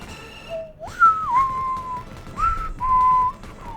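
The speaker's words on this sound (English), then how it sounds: "I can't whistle the Doctor Who theme anymore." A lone person whistles a halting attempt at the Doctor Who theme, a few rising and falling notes held in short phrases with gaps between, close and clear over faint background noise.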